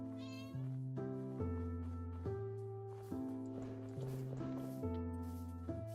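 A cat in the Minecraft video game meows repeatedly, with short calls layered over steady tonal in-game music.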